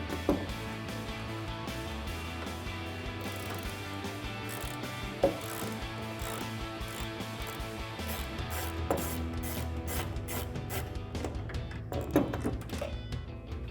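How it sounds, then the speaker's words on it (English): Rapid clicking of a ratchet with a T25 Torx socket backing out taillight bolts on a 2009-2018 RAM 1500, steady repeated pawl ticks in bursts, close and clear. "This is a T25 Torx bolt, so grab a T25 Torx socket and a ratchet."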